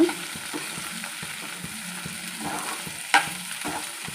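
Okra cooking in a pan, a steady sizzle with repeated scraping stirs at a fairly even rhythm and one sharper clank of the utensil partway through, close up with no voices.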